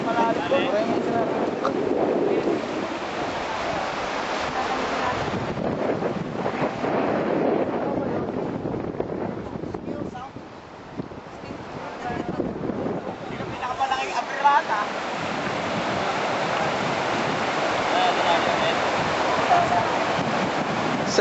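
A strong river current rushes in a steady, loud roar, heavily buffeted by wind against the microphone, with faint voices now and then beneath the noise.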